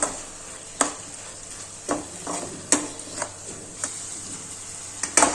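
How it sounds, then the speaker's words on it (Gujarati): Kashmiri red chili powder is stirred into a frying onion-tomato masala for methi muthiya shaak. A spoon scrapes and taps the pan in irregular strokes over a soft, constant sizzle. "મિક્સ કરીશું."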